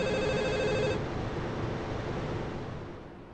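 Public phone ringing in the GTA Liberty City Stories video game, a steady electronic ring for about a second that cuts off into a broad wash of ambient city noise which gradually fades.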